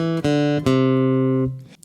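A guitar plays a short run of chords that steps downward, a few quick strums and then a sustained chord that rings before fading.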